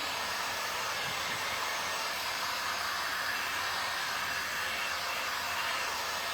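A hair dryer blows steadily over a painted tray, a constant close, loud airy whoosh throughout with no talk.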